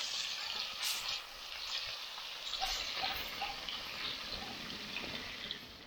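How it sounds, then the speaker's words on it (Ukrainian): Steady sizzling and crackling of potatoes and pork belly frying on a harrow-disc pan, with soft bubbling pops, moderately quiet and continuous. "Тут все так шкварчить, бурлить, шипить."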